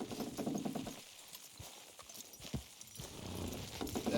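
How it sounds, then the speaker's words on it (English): Horses in Red Dead Redemption 2 strain to pull a structure down, hooves clopping on the ground in uneven bursts with a faint neigh, the thuds fairly close against a quiet background. "Horses will pull it clean down."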